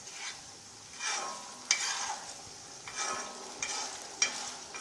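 Potatoes stirred in chili sauce in a frying pan, soft sizzling under repeated sweeping scrapes of a spatula, about five strokes at an even pace.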